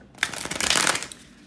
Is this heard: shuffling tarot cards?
yes